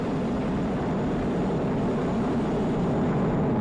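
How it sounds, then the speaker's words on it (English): SpaceX Falcon 9 rocket engines roar during the Crew-8 crewed launch as they throttle down near maximum dynamic pressure: a steady, continuous, distant broadband rumble with no voices. "Falcon 9 engines now throttling down to help pass through the period of maximum dynamic pressure."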